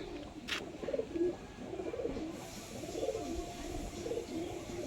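Pigeons being shown for sale coo steadily in low, rolling bursts throughout, close and continuous, over a faint background hiss.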